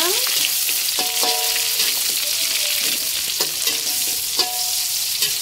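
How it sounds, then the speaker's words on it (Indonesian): Red chilies and bird's eye chilies fry in hot oil with a loud, constant sizzle, broken by repeated clinks and scrapes of a utensil stirring the pan. "Selanjutnya kita goreng cabai merah, cabai rawit."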